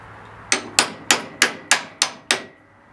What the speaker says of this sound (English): Put it on a hard surface and then hammer it in there.